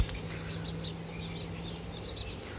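Baby birds in a nest being fed by an adult bird, faint high chirps scattered over a steady low outdoor hum.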